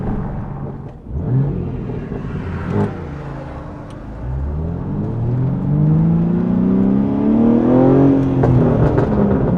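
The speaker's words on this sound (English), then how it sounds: "The exhaust note is definitely suppressed when you have the windows up." Deep, rumbling exhaust note of a BMW G80 M3 with the S58 engine while driving with the windows partly down, a steady drone that rises in pitch as the car builds speed, with a brief dip early on.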